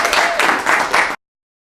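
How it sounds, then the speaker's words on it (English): A short burst of audience applause at a marketing workshop, a small crowd clapping briskly for about a second before it cuts off. "Big round of applause."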